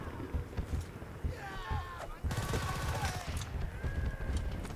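Rapid gunfire bursts from a trench-warfare video game crackle close and steady through the whole stretch, mixed with battle noise and voices talking over the action.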